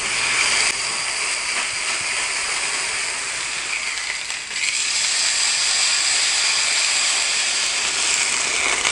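Steady, loud sizzling hiss of pork steak frying in a hot pan, continuous throughout with no voices.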